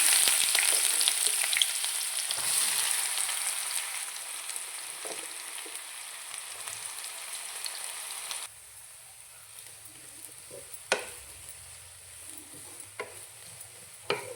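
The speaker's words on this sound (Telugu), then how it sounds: "ఇప్పుడు ఆనియన్స్ వేసుకోవాలి" Onions frying in a pan for an egg curry give a loud hiss that gradually fades, broken by occasional sharp clicks of a spoon stirring against the pan.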